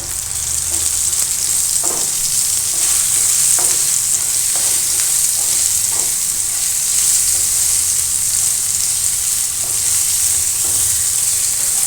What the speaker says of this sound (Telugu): ఇప్పుడు వేపేసుకున్నాం వంకాయలు వేపుతున్నాం కదా